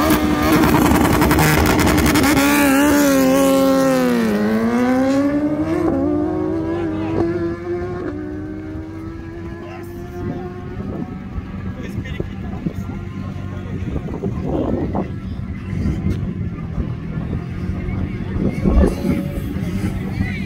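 BMW S1000RR drag motorcycles scream up through the gears during a drag race, with a loud rising and falling whine that shifts several times before fading into distant engine noise, crowd sounds and nearby voices.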